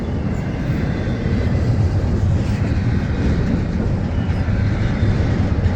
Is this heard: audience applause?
no